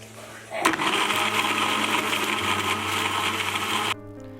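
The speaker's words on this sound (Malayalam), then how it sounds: "ഇനി ഇതിലേക്ക് നമുക്ക് ഐസ് ക്യൂബോ അല്ലെങ്കിൽ ഐസ് വാട്ടറോ ഇട്ടിട്ട് ഒന്നുകൂടി അടിച്ചു കൊടുക്കണം." A blender whirs loudly and steadily for about three seconds, blending guava juice with ice cubes or ice water, starting abruptly and cutting off sharply; a voice speaks faintly before it starts.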